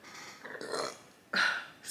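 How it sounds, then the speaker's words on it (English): A person burps during a Chinese food mukbang of Singapore noodles, two short throaty belches close to the mic, the second louder and more abrupt. "I'm ready to burp already without even drinking nothing."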